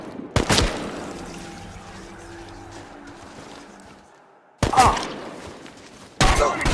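Gunfire in the video game Chernobylite, with a sharp loud burst near the start and two more abrupt blasts later, separated by quieter rumbling ambience.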